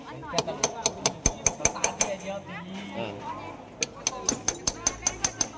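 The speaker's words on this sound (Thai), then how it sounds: "กระแทกน็อตให้เขาก่อน" Metal hammer striking a nut on a Yamaha Mate motorbike kick-starter, a rapid series of sharp ringing clanks in two bursts separated by a short pause, close up, with someone talking between blows.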